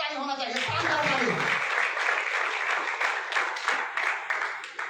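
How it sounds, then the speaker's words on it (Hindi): Audience at an organic farming seminar breaks into loud applause, a dense wash of clapping that holds steady and begins to thin toward the end, with some voices and murmurs mixed in. "तो एक बार जोरदार ताली होना चाहिए, शानदार ताली।"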